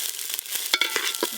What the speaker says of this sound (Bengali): আবারও খুব ভালো করে একসঙ্গে মিশিয়ে নেব।